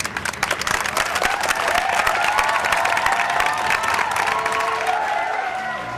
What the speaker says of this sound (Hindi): और ठोकर ताली कांजी भाई के लिए